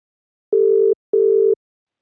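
A telephone call rings through with a steady electronic tone in two short, evenly spaced bursts separated by a brief pause, clear and alone with no talking.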